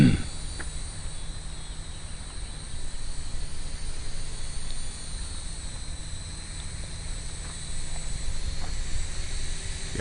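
Blade mQX radio-controlled quadcopter flying indoors, a thin steady high-pitched rotor whine holding at an even level throughout, with a few faint clicks.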